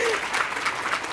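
A brief burst of audience applause at a library conference closing keynote, with several quick claps rising out of the room tone for about a second.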